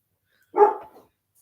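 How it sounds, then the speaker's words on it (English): A single close, loud dog bark with a short trailing tail, followed by silence. "why are you letting your dog out to bark at me?"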